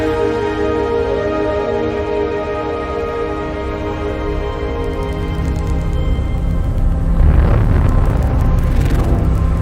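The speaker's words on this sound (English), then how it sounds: "The sound you're hearing is a light black hole banging on space each time it gets close." Sonified gravitational waves from a light black hole spiraling into a much heavier one: a dense, loud droning rumble of layered steady tones, with a swelling burst of noisy pulses building near the end.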